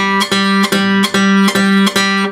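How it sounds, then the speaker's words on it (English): A guitar plays a pinch-accented, syncopated offbeat eighth-note picking pattern, loud and close, with sharp regular percussive attacks over sustained chords. "if you put those two together with the pinch and the offbeat, it would sound like this."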